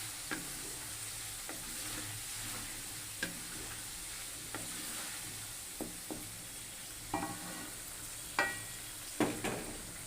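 Chicken chaap frying in a pan for a home-cooked meal, a steady low sizzle broken by several sharp clinks of a utensil stirring and scraping, growing louder toward the end, with no talking.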